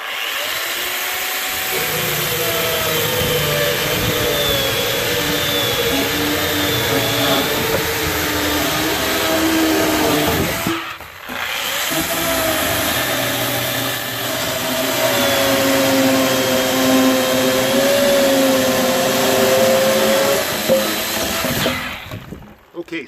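A 14-inch Makita planer runs at a cabin while timber is worked for log front porch steps, a loud continuous whining roar that dips briefly midway and then winds down at the end.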